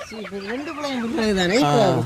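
Chickens clucking and squawking up close with a rising, warbling call, fairly loud and continuous, a chorus of hens in a crowded coop.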